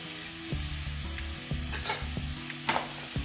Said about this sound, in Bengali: সব মশলাগুলো আমি ভালোভাবে মিশিয়ে নিচ্ছি।